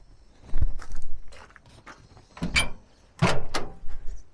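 A Jeep Gladiator truck door clunks open in a junkyard, followed by a few shuffling movements and a firm slam shut, close by with no talking.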